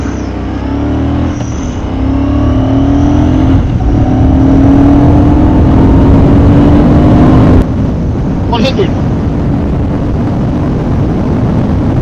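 A loud belt-drive motorcycle engine roars steadily as it accelerates hard, pitch climbing, then a gear change near the end.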